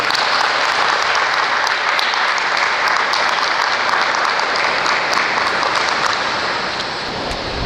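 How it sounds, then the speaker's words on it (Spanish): A church congregation claps in unison to praise the Lord, loud, dense and sustained applause filling the room and easing slightly toward the end. "¿Cuántos pueden darle un aplauso al Señor?"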